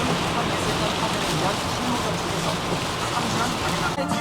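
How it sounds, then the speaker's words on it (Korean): Heavy rain drums steadily on a Lexus ES330 at highway speed, a dense, loud continuous wash of droplets and road noise heard from inside the car throughout. "비가 많이 오네요"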